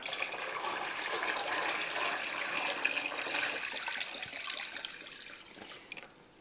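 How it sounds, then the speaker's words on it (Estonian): Brine is poured into a container as a steady rushing, splashing stream that runs for several seconds, then thins out into a few trailing drips and splashes. "Aga valame peale, vaatame."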